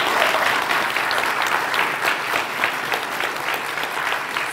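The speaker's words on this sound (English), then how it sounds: "Give them a round of applause." A crowd at a junior chef competition claps continuously, dense and lively, applause holding steady at a fairly loud level throughout with no voices standing out.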